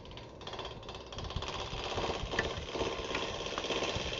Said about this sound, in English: Here I'm cutting the side grain fibers.